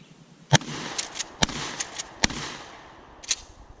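Mossberg 500 ZMB shotgun fired outdoors, several sharp loud blasts in an irregular sequence with short gaps, each followed by a brief trailing decay.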